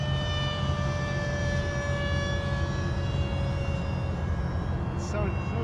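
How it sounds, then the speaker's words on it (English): A model airplane flies overhead at a lake, its engine giving a steady, sustained whine that holds at an even level throughout, with faint voices in the background. "Such a good flying plane."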